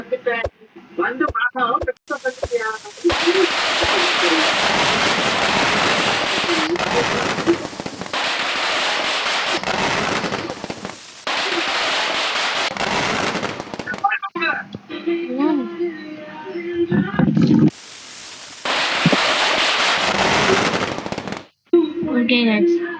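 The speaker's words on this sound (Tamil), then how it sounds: "அடுத்த வெடி" Repeated bursts of crackling firecracker explosions in a mobile fireworks game, long rapid popping stretches separated by brief pauses, with a voice talking over parts.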